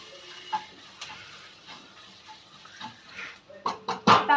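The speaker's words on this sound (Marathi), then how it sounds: "ते व्यवस्थित हलवून घ्यावं" Turmeric and asafoetida being stirred through hot oil in a pan for a okra dish, a soft continuous sizzle broken by scattered scrapes and clinks of the spoon, louder bursts near the end.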